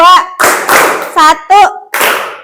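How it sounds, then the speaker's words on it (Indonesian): Children in a classroom clap their hands together in short counted groups, the sharp bursts of claps alternating with a voice speaking between them. "Kalau tepuk tangan dua, tepuknya dua."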